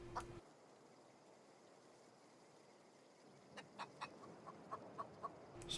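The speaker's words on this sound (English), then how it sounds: "but we have regular chickens in here." Chickens clucking in the video game The Outer Worlds, a series of soft, short clucks in a quiet ambient scene with no talk.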